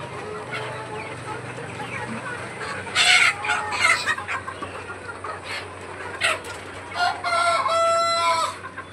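Chickens and roosters cluck and call in a coop, the hens in busy overlapping bursts and a rooster crowing loudly near the end, all over a steady low background hum.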